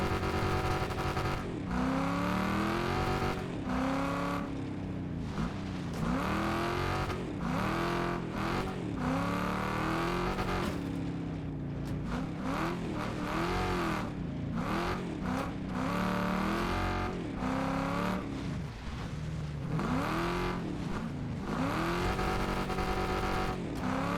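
Junk-car racing engines in Wreckfest 2, a destruction-derby racing video game, roar steadily and loudly for the whole stretch, revving up and down in repeated sweeps as the cars accelerate, with occasional tire squeals.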